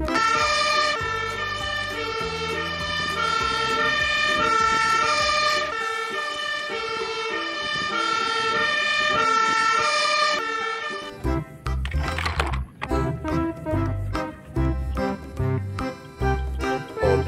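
A fire engine siren wails over a layered musical background, with loud, sustained tones for about ten seconds before it shifts into choppy, bursty sounds and engine noise.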